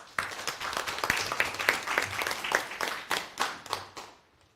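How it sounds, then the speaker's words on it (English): A small audience claps for a professor at an academic talk on informal recyclers, with distinct individual claps forming a loose rhythm that swells, then thins and trails off. "Please give a round of applause for Prof."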